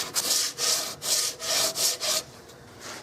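A wooden stock for a 16-gauge side-by-side shotgun is smoothed by hand with a rasp-like tool: about six rhythmic back-and-forth scraping strokes, close and clear, then a short quiet pause.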